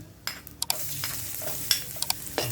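Garlic and dried fish are sautéed in a pan, with a soft sizzle under scattered scraping and stirring clicks from a utensil.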